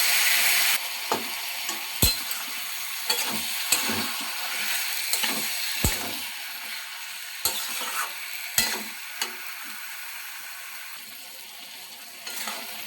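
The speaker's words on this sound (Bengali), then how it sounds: "মশলার সাথে কচুর শাকটা কিছুক্ষণ নাড়াচাড়া করে নেব" Boiled taro leaves are stirred with cooked spices in a pan for a taro leaf and cow's milk dish, giving a steady sizzle broken by sharp spatula knocks and scrapes at irregular intervals, with no talk.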